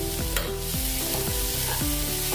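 Sabudana khichdi stirred in a pan, a loud continuous sizzle with a spoon scraping and sweeping through the mixture in quick repeated strokes.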